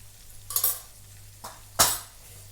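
Potatoes frying with turmeric and salt for poha are stirred in a pan, heard as a few quick metallic scrapes and clinks of a spoon over a faint sizzle.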